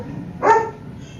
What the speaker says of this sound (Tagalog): Pasensya na kayo sa aso maingay.